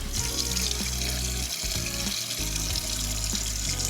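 A bathroom tap runs steadily into a sink while face cleanser is rinsed off, a constant close rush of water with brief dips as hands splash through the stream.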